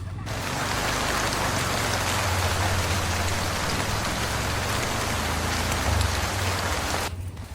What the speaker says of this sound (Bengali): আরে বাবা, কি বৃষ্টি শুরু হয়েছে